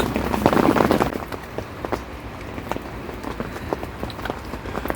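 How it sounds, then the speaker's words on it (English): Heavy rain pours down at a lake while fishing, a dense steady hiss with scattered louder drops tapping, loudest in the first second and then holding steady, close and continuous with no voices. "it's still hammering it down with rain"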